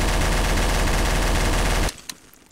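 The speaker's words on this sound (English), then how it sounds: "And I hear lots of gunfire." Loud, sustained automatic gunfire in Garry's Mod Trouble in Terrorist Town in a continuous dense burst, then cutting off abruptly to a quiet background with a couple of faint clicks.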